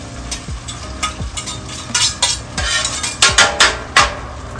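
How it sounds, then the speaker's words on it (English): Metal spatula pressing and scraping eggs frying on a Blackstone griddle: loud repeated clanks and scrapes in an uneven rhythm over a constant sizzle, with no talking. "Flatten out these eggs so they cook a little quicker."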